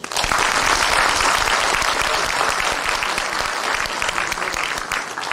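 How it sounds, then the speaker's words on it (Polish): Audience applause for a brass orchestra at an Epiphany Three Kings procession in Opatów, Poland: dense, sustained clapping from a large outdoor crowd, loud and steady throughout. "Myślę, że dla niej wielkie brawa."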